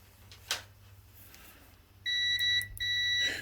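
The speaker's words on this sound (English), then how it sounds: "Beep beep works." An electronic tester on a window regulator motor gives two loud, steady, high-pitched beeps back to back, close up, after a quiet stretch with a faint click.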